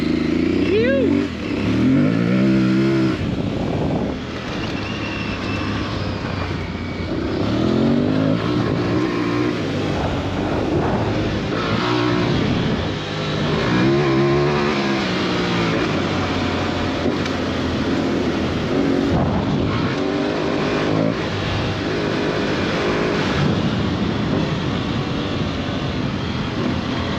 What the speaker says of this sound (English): We are on board the new Aprilia Tuareg 660, and it is a beast, people.